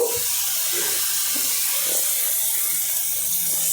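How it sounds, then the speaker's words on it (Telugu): Water pouring into a cooking pot while preparing a chutney from thick broad bean (chikkudukaya) peels, a steady close splashing hiss that runs unbroken and fairly loud for the whole stretch with no one talking. "కొంచెం వాటర్ పోసుకుందాం"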